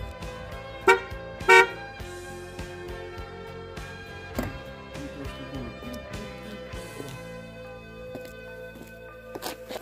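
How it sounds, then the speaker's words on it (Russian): Volga car horns fitted to a Lada Priora give two short, loud, close honks near the start, followed by quieter clunks and handling noise around the car. "Сигнал сигналит, сейчас покажу как."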